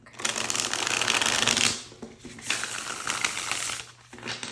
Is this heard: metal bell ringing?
no